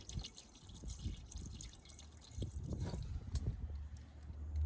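Liquid trickles and drips into the cylinders of an old 1933 Dodge truck engine, irregular splashy pours with low wind rumble outdoors, close and moderately loud.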